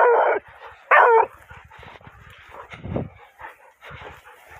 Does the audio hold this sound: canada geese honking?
no